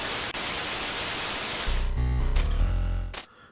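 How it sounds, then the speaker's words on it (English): Radio static hisses as a steady, loud broadband wash in the Nintendo Switch game Bahnsen Knights, then cuts out abruptly and gives way to a low droning tone with brief crackling bursts. "Turn on the radio, static."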